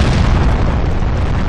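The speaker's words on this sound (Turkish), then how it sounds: "Bomba patladı." A bomb explodes in the video game Point Blank, a loud, dense, rumbling blast that fills the whole moment with heavy low-end roar.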